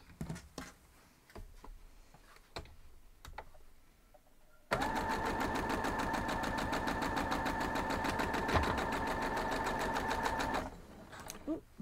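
Sewing machine stitching quilt block pieces for a Coxey's Camp block, first a few light taps and handling noises, then a loud, continuous run of rapid stitching lasting several seconds before it stops.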